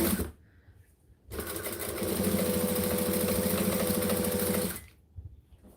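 A domestic sewing machine stitches through fabric in one sustained run of several seconds, its rapid even mechanical hum beginning after a short pause and stopping abruptly, close and fairly loud with no talk.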